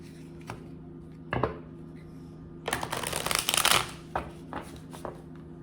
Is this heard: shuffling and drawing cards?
yes